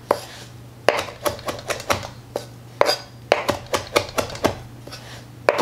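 A knife roughly chops fresh parsley leaves on a cutting board in a series of about fifteen crisp, close knocks at an uneven, brisk pace over a low background hum.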